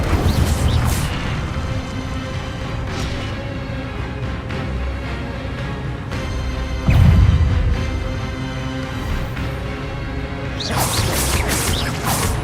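Fire spell cast in the Hogwarts Legacy video game, heard as a loud booming whoosh and crash near the seven-second mark over steady game music and effects, with further bursts toward the end.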